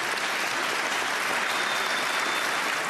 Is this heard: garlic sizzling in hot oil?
no